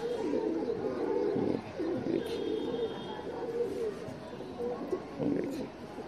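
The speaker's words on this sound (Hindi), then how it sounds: "ये जालदार कबूतर है ये, ठीक है।" A compact jaldar pigeon coos in low, rolling murmurs, repeated through the clip against steady background noise, with a voice speaking nearby.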